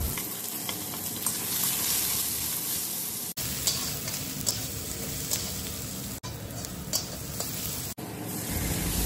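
Onion frying in oil with bay leaf and dried red chilli gives a loud, continuous hiss and crackle close up, with occasional sharper spits and brief breaks in the sizzle; no voices.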